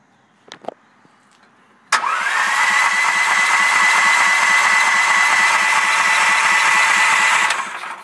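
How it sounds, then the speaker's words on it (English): The small gasoline engine of a paint agitator that will not start. A few faint clicks are followed by a sudden, loud mechanical whir that holds steady for about six seconds, then dies away. "There's gas in this agitator, I call it, and it will not start."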